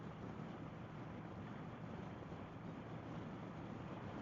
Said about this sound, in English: Oh, the wind is blowing today.